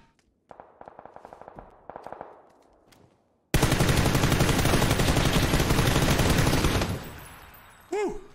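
Video game gunfire in bursts: a few short volleys early on, then a loud sustained barrage of rapid automatic fire lasting several seconds, close and dense, ending with a brief final burst.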